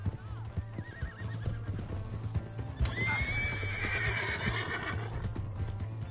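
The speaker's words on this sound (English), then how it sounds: "Hey, that's my horse!" A horse in the video game Red Dead Redemption 2 whinnies loudly over steady clip-clopping hooves, with game sound and some voices mixed in.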